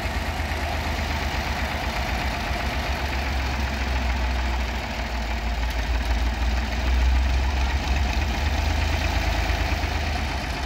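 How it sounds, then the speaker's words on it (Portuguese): A tractor engine running at idle nearby, a loud steady low rumble with fast regular chugging pulses and slight swells in level, with no talking over it. "vou pegar o trator e vem pra cá"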